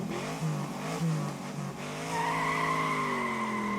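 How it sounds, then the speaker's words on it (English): A loud car roars around a bend on a country road in the visual novel Grisaia, its engine note rising with a squealing, skidding edge over a few seconds. "A bright yellow car, badly out of place on a shabby country road, roars around the bend and disappears."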